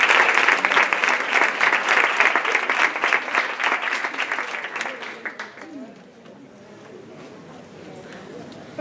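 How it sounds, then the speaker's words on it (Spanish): Audience clapping in a lecture room at a talk on research training grants, loud and brisk for about five seconds before thinning out and fading into quiet room noise. "Aplaudimos."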